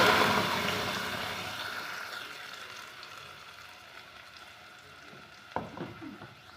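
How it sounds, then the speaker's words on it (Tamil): Steady sizzling and bubbling of ground masala boiling in a pan for a drumstick leaf stir-fry, loudest at first and gradually settling, with a brief clatter of stirring near the end. "நல்லா கொதிக்கட்டும் நல்லா கொதிக்க விடலாம்"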